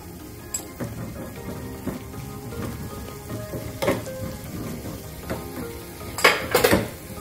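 Turmeric goes into a hot tempering of oil and spices in a pan, giving a soft continuous sizzle with occasional stirring scrapes and clinks of a utensil against the pan.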